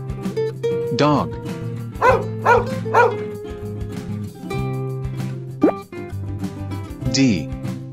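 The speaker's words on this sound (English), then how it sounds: "Dog." A dog barks in a short series, one bark then three quick ones in a row, close and loud, with a final yip near the end and no talking.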